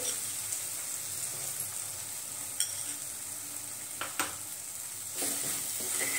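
Turmeric and coriander powder sauté in a hot pan, a steady sizzle and frying hiss running throughout with a few sharp scraping clicks of a spoon against the pan; no voices.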